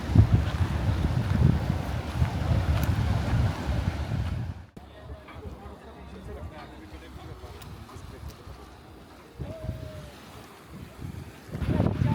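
Wind and lapping water along the Pangong Lake shore, a steady broadband rush that is loud at first, drops quieter midway, then swells again near the end.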